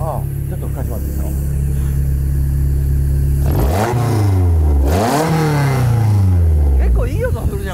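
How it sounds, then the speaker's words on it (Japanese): A Toyota AE86 fitted with a 3S four-throttle engine idles with a deep rumble, then is revved sharply twice, the pitch climbing and falling each time, close and loud. "ああ、ちょっと吹かしますよ。"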